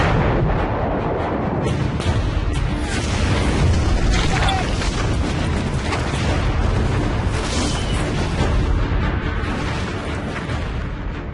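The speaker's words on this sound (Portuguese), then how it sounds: "os primeiros tiros de um maciço ataque violento caem em Okinawa" A massive artillery bombardment striking Okinawa in 1945, a dense, continuous roar of overlapping blasts and booms, loud and unbroken throughout.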